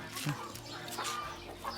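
Farm chickens clucking in a few short, soft bursts, fairly close, with faint background noise and no clear talk.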